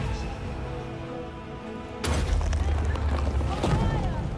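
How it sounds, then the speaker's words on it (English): Magical explosion spell in a Warhammer fantasy battle game with Wood Elves bursts suddenly into a loud, broad boom after a quieter stretch, with crackling debris and battle noise after it. "got this magical explosion."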